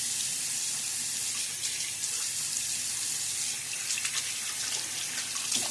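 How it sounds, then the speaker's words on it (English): Water runs steadily from a tap into a sink during a wet shave, a constant close rushing hiss with small splashes and no talk. "Splash of water."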